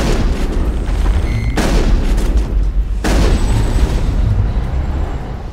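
Gunfire and booming blasts in Mass Effect while exploring Feros, loud and close, with two sharp onsets breaking a continuous heavy rumble.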